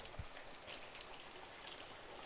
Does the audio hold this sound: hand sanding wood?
no